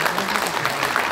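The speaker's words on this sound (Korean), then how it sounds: "우리 엄미정 의원님한테도 큰 박수 한번 부탁드립니다" An audience at a football association president's inauguration evening in Ansan claps for a council member, a brief burst of dense, even applause at close range.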